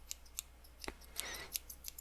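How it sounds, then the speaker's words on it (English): Close, quiet snips of scissors cutting paper for papel picado: a handful of sharp clicks and a brief papery swish, soft and intimate, with no voice over them. "since I need to work with what I have, I'm going to use scissors."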